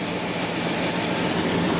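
A van idles through newly installed aftermarket exhaust tips, recorded up close near the pipes as a steady, broadband rumble with a low bass undertone and no change in revs.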